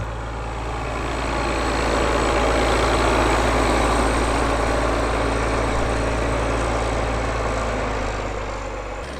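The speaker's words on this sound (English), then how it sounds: "its exhaust produces a lovely burble" A tractor's heavy diesel engine, its fuel pump tuned for tractor pulling, idles steadily with a deep, continuous exhaust rumble and throb, close and loud, with no voices.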